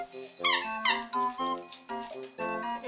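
Squeaky toys from a hamster toy box squeak in quick, uneven bursts, loud and close, with no talking.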